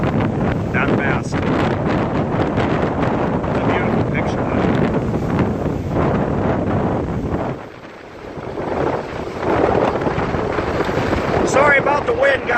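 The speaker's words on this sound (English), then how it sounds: "Sorry about the wind, guys." Strong wind roars across the microphone at a Lake Erie breakwater at Presque Isle State Park in Erie, Pennsylvania, with rough waves beneath it. The buffeting is loud and continuous and eases only briefly midway.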